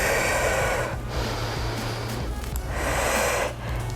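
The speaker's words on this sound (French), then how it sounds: "On prend 2 petites respirations." Two short, forceful breaths taken mid-HIIT workout, close and loud, each a sharp airy rush over a continuous low background rumble.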